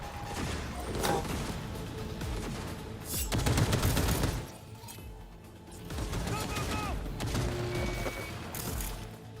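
Rapid bursts of video game gunfire, volleys and machine-gun rattle, crackle loudly and repeatedly in a chaotic firefight over a dense background of game sounds, with bursts rising and falling across the scene.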